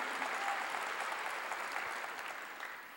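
Church congregation applauding during a Korean pastor's sermon: a steady, dense wash of many hands clapping together, fairly distant and even, tapering slightly toward the end with no speech over it.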